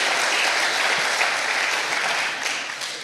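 A church congregation claps together in a steady, full round of applause that fills the room, fading slightly at the close.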